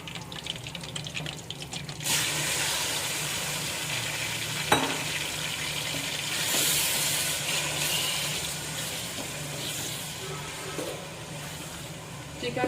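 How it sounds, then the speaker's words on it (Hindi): Chicken drops into hot melted oil and butter for a restaurant-style makhni handi, setting off a loud, steady sizzle from about two seconds on. The frying hiss stays broad and continuous, with a couple of brief clinks and stirring sounds over it. "चिकन को फ्राई करना है"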